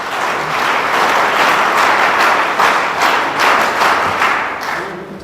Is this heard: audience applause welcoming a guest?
yes